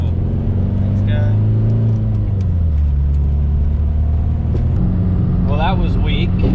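A modified VW MKIV TDI launches hard from a stop, its diesel engine droning loud and close, then bogging as the revs sag and struggle; people talk throughout inside the car.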